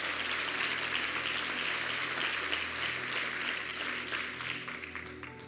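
Church congregation applauding during a worship service, a dense, even clapping that is fairly faint and distant and tapers slightly toward the end.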